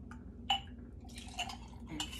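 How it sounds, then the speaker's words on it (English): Hot buttered rum is ladled into a mug, with three soft clinks of the ladle against the pot and the mug and a brief liquid pour and drip in between. The sounds are close and faint against a low background hum. "Whisk it in, grab your mug and a handy ladle,"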